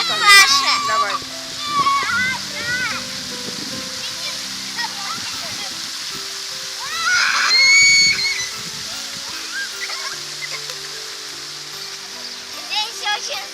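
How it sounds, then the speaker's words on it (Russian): A town-square fountain splashes continuously close by, its water loudest around the middle, while adults and someone talk over it. "А вот теперь фонтанчик, да, вот такой фонтан."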